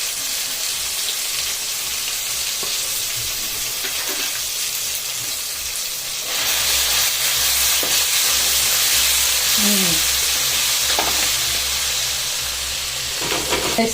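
Onions and green chillies frying in oil as turmeric is stirred in: a loud, continuous hiss and sizzle that grows stronger halfway through, with occasional faint scrapes of stirring, close up and without talk.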